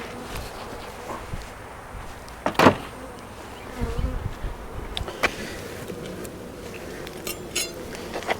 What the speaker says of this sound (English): Still got lots of bees.